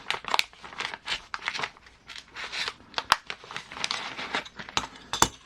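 A plastic bag crinkles and rustles in irregular bursts as skid plate parts for an RC4WD Marlin RC crawler are unpacked, close and crisp with sharp crackles and short pauses.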